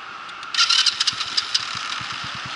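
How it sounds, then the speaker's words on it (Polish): A small AM-category motorcycle starts up on a training yard, with a short burst of starter cranking that catches into a run, then settles into an even, pulsing idle close by and alone. "Uruchamiamy motocykl"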